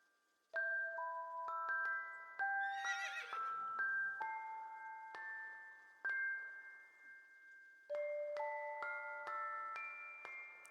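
A horse neighs once, a short rising-and-falling whinny near the three-second mark, set among a run of bright chiming musical tones that play alone before and after it.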